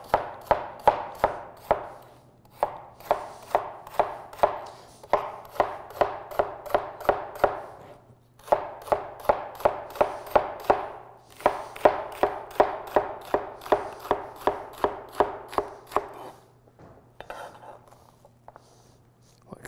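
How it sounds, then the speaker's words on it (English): A knife slicing long pieces of celery on a cutting board, a brisk run of crisp, evenly spaced chops in several bursts with short pauses between them, close and clear. "I'm just gonna go and I'm gonna slice these pretty long"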